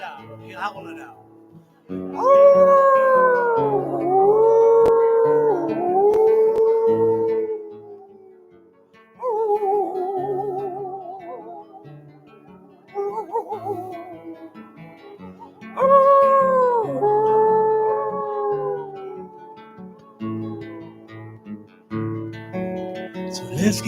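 A group of people imitates a Malamute howl, loud, long wavering voiced wails that rise and fall in overlapping layers, coming in several swells with short dips between them, close and strong throughout.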